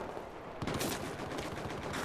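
Rapid gunfire bursts in a Battlefield 4 match, starting after a quiet half second then rattling on steadily and fairly loud, with no talk over it.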